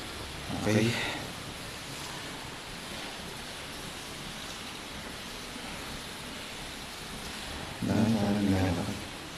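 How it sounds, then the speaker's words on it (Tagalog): Heavy rain falls at a hotel as a steady, faint hiss and wash, with brief bursts of a person talking at the start and near the end. "Malakas na ulan."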